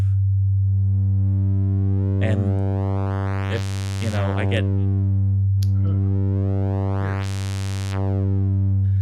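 A sustained sine-wave test tone from a synthesizer hums steadily throughout, with brief bursts of speech and brighter sweeping overtones rising over it twice.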